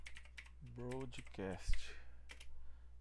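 Typing on a computer keyboard with a key that duplicates some letters, heard as scattered faint clicks under someone speaking Portuguese about network addresses.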